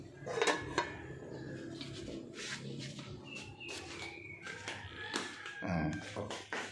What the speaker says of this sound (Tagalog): Takpan ko muna.